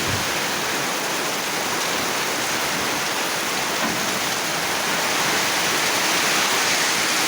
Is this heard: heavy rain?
yes